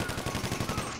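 Rapid automatic gunfire in GTA Online during a survival-mode shootout, a dense burst of closely spaced shots running continuously through the short moment, loud and close.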